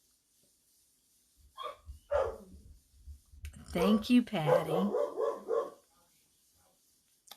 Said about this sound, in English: Oh, I got a dog howling.